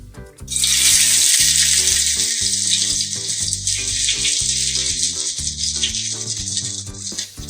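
Long-sliced onions hit hot mustard oil and set off a loud, steady sizzling hiss after a brief pause, continuing throughout over background music.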